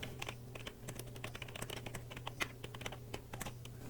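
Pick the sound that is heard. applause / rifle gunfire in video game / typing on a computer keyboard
typing on a computer keyboard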